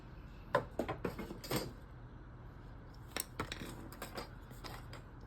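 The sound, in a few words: cutting material for a DIY washi tape dispenser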